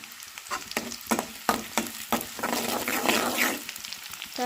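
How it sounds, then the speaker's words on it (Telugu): Onions fry in a pan with a steady sizzle, broken by sharp, rhythmic clacks of a spoon stirring against the pan, close and loud. "ముందు ఆనియన్స్ వేసుకొని ఫ్రై చేసుకున్నా"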